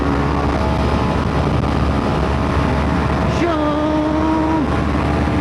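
A car accelerating hard through the gears to high speed, with loud continuous engine and road roar and a rising engine tone that shifts near the end.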